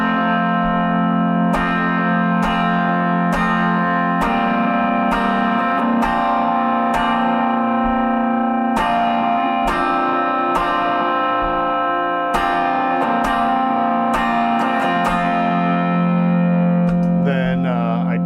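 An electric guitar with two gain stages of distortion strikes a sequence of chords, each sustained and ringing with bright harmonics, in a regular rhythm of roughly one strum per second.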